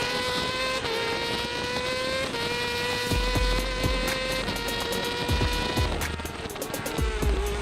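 A Yamaha race motorcycle with a Spark exhaust at a road-racing circuit, its engine screaming at high revs with gear shifts and pitch drops as it accelerates past, loud and close, alone.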